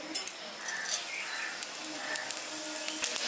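A dried red chilli and panch phoron tempering frying in hot mustard oil, giving a steady close sizzling hiss with small crackles throughout.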